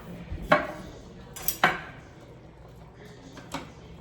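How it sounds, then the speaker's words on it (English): A knife cuts a lime in half on a board, giving a few sharp taps and knocks spread over several seconds, close and moderately loud in a quiet kitchen. "Let's cut this in half."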